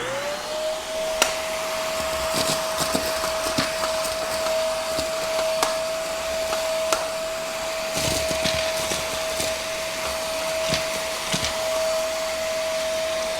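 A corded stick vacuum cleaner with a rotating bristle brush head works over carpet, its loud steady motor whine running throughout with scattered clicks and rattles of debris being picked up.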